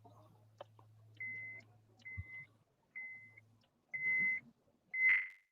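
A phone call line gives a series of five short electronic beeps, evenly spaced about a second apart, the last one louder, with faint low hum and clicks between them.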